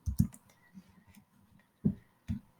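Keystrokes typing a short terminal command on a computer keyboard: a few soft, close clicks in quick bursts, then two isolated taps after a pause, alone in a quiet room.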